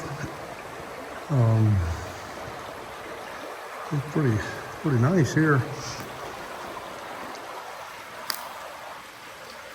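The Gunnison River flows with a steady, broadband rush beneath a voice as he talks in short bursts, the water continuing alone between his phrases.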